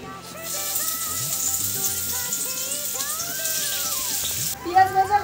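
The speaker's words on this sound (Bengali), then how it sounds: "এবার আমি পেঁয়াজ কুচি আর টমেটো কুচি তেলে ভেজে নেব।" Chopped onion and tomato fry in hot oil with a steady, bright sizzle and crackle throughout. Kitchen clatter sounds in the background and a few louder knocks come near the end.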